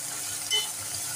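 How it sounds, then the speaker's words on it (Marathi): Chopped tomato and onion sautéing in a pan while cooking matki rice, a faint, steady sizzling hiss over a brief moment with no talk. "बारीक चिरलेला टोमॅटो घालूया. तो सुद्धा छान परतून घेऊया."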